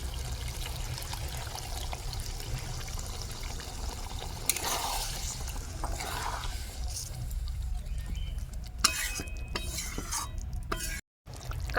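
Spice-rinse water is poured from a bowl into simmering chicken curry, a close trickle and splash followed by stirring and clinks against the pot, with no talking.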